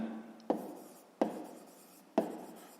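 Three brief scratchy strokes of a pen on paper while numbers are written during a fifth-grade maths exercise, each stroke a sharp onset that fades, close and fairly quiet, with no talking.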